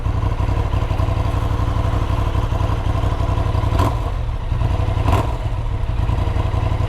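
A motorcycle fitted with an aftermarket exhaust bought from Amazon idles close and loud, giving a steady throbbing rumble and a couple of quick blips of the throttle.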